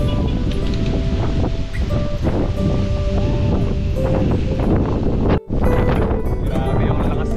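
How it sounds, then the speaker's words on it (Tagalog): Strong wind buffeting the microphone on a downhill bike ride toward Santa Maria on a slippery road: loud, constant rushing roar throughout, with a brief dropout near the end. "Grabe yung lakas ng hangin"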